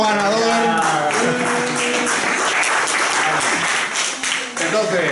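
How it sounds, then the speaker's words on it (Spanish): Audience applause for a winning team at a Spanish-language talk on creativity and entrepreneurship, a dense burst of clapping with a voice speaking over it throughout. "Un aplauso aquí."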